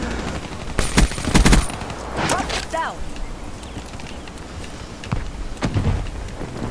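Gunfire in a first-person shooter game, several sharp shots and short bursts spread across the moment under busy game ambience, with a voice talking at times.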